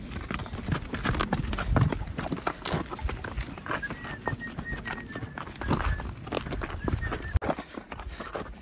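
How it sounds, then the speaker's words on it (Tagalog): A horse walks along a hiking trail on Batulao, its hooves clip-clopping in a steady, uneven rhythm up close, with faint birdsong and scattered rustling around it. "ako naman yung sumakay na kabayo"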